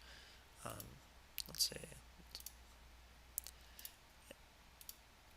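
A computer mouse clicks faintly and sparsely during work in diagram-editing software, with a few quiet single and double clicks near a soft spoken voice.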